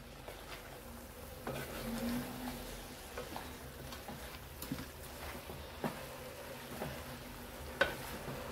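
Drumstick pods with grated fresh coconut and coriander being stirred and sautéed in masala, a soft steady sizzle with occasional spoon scrapes and taps against the pan, fairly quiet and close.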